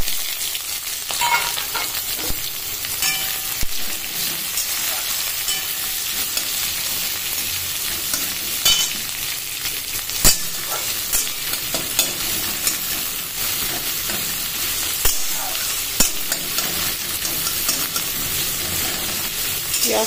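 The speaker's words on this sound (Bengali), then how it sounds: "পেঁয়াজ কুচি দিয়ে দেবো।" Chopped onions fry in a pan with a steady broadband sizzle, while a utensil stirs and scrapes at them in sharp, irregular clicks throughout, close and fairly loud with no voices.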